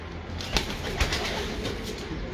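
Breeder pigeons coo softly over a noisy background, with a couple of brief bursts that could be wing flaps, fairly faint and close by.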